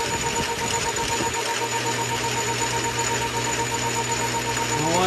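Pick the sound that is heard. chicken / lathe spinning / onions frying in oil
lathe spinning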